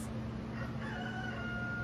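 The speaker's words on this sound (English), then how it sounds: "there's a rooster" A rooster crows at a distance, a drawn-out call rising over a low, steady background hum, faint and with no one speaking.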